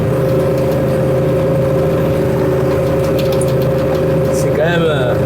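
A tractor engine runs steadily under load while subsoiling a heavy clay field, over 45% clay, being prepared for wheat, with a continuous mid-low drone and a brief shift near the end.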